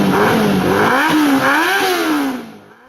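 A Yamaha YZF-R6 sport bike's inline-four engine revs hard and close, its high-pitched scream rising and falling in quick throttle blips before fading at the end, no voices.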